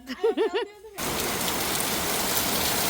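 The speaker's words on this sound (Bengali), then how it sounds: "দেখেন রহমতের বৃষ্টি শুরু হয়ে গেছে বাংলাদেশে" Rain falls in a Bangladeshi village in a steady, even wash of patter that starts suddenly after a brief burst of voiced sound and then continues unbroken.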